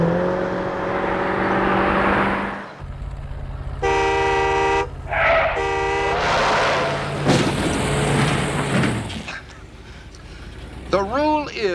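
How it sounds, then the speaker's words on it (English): A car horn sounds in several sustained blasts during a drive, with engine noise and clattering between honks and voices talking nearby. "Well, honk at him."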